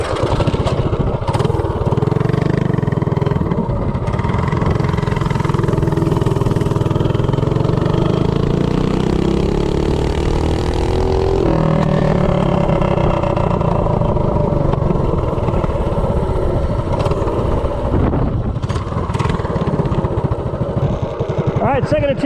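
A Bonanza minibike with a Duromax 208 engine and 1.3 ratio rockers roars close by, its loud engine note climbing as it accelerates from a standstill, with a brief shift in pitch midway and a voice talking briefly at times.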